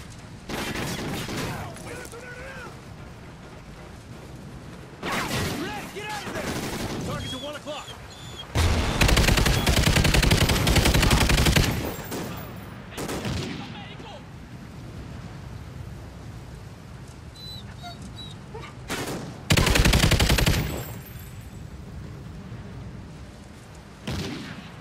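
Bursts of heavy gunfire and automatic weapon fire from Call of Duty: Ghosts come in loud, dense volleys separated by quieter stretches, with voices talking in between.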